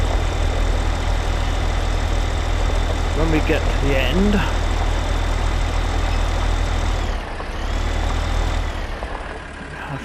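Tractor engine in Farming Simulator 15 droning steadily while pulling a plough, a loud continuous low hum that shifts slightly near the end, with someone talking over it.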